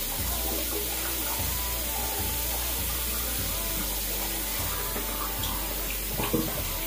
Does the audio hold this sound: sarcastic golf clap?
no